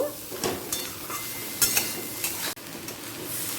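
Papaya and potatoes being stirred together in a frying pan for a vegetarian curry: repeated spatula scrapes and soft clatter over a steady low sizzle, close by, with no talking.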